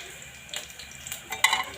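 Whole dried red chilies and spices sizzle and crackle steadily in hot oil with a few brief spitting bursts, close by, with no talking.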